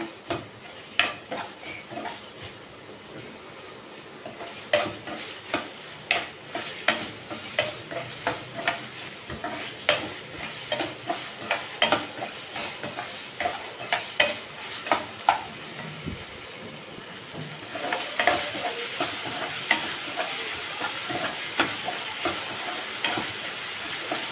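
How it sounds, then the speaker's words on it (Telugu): Onions stirred and fried in a pan for aloo rice, with a spatula scraping rhythmically against the pan every second or so over a low sizzle, which swells into a louder hiss near the end. "కొంచెం లైట్గా ఆనియన్స్ కొంచెం వేగాలి కదా"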